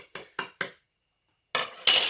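Three quick taps of a small spoon, then a pause before a scraping, rustling pour of granules, close and clear.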